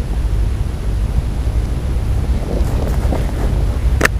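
Wind buffets and rumbles steadily across the microphone, a constant low roar with a few faint rustles near the end.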